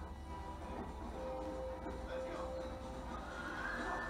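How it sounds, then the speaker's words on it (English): A train rolls past in the video game Red Dead Redemption, a steady mechanical rumble with a rising whistle-like tone near the end, heard alongside game music and ambience at moderate level. "And you all see that train there?"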